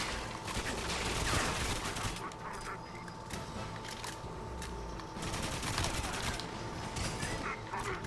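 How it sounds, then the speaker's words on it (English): Rapid automatic AK rifle fire from the GoldenEye video game crackles continuously and loud throughout, a dense stream of shots with no pauses. "The shooting just doesn't feel weighty. Oh shit. Up the AK."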